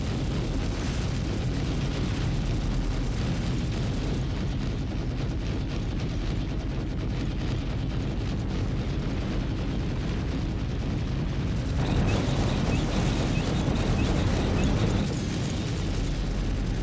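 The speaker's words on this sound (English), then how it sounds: "Good impact on one torp." Torpedo impacts and explosions in the Star Citizen space game, a continuous roaring rumble of heavy booms and blasts, loud and sustained, surging again near the end.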